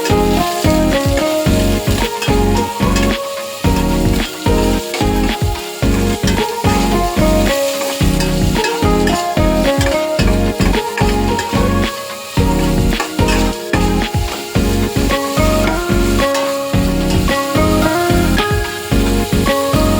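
Chicken frying in a home-kitchen pan gives a steady, loud sizzle throughout, broken by rhythmic stirring or scraping sounds.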